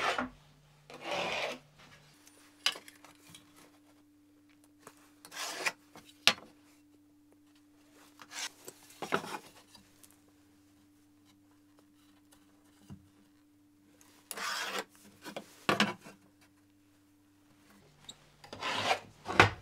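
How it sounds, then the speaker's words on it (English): A pencil marking lines on a drywall wall along a level, with intermittent scratchy rubbing strokes in short bursts separated by pauses, close and fairly faint, no talking. "So now I just need to take a level and mark this all out."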